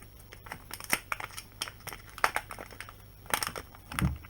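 A plastic bag crinkles in short, irregular bursts close by, and there is a soft thump near the end. The setting is a repair of a Fritzbox router.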